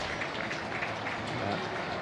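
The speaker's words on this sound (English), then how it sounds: "A very generous round of applause from the crowd here for Izzy Maholo" Crowd at a Hong Kong soccer sevens match giving a round of applause, a steady wash of distant clapping under a commentator's talk.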